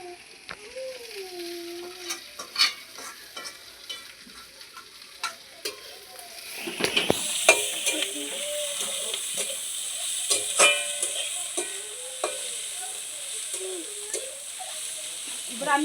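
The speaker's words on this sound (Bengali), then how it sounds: "আমার কড়াই গরম হয়ে গেছে তেল দিয়ে দেবো এই আমি আবার শাকগুলো দিয়ে দেবো" Brahmi greens frying in hot oil in a home kitchen wok give a steady close sizzle with stirring scrapes, growing louder and hissier midway as the greens hit the oil, with a voice speaking over it throughout.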